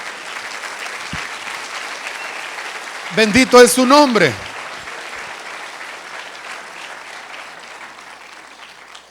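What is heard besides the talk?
congregation applause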